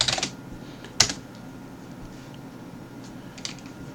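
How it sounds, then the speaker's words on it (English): Quick, light clicks of a computer keyboard as a password is typed. A few sharper key taps stand out over a soft fan hum, with no talking. "Type in the password."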